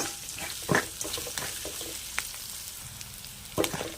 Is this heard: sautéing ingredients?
yes